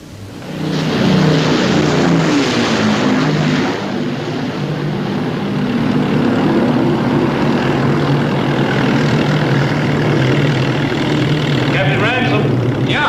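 RAF aircraft pass overhead at night, a loud continuous engine roar that swells and holds, with propeller drone throughout.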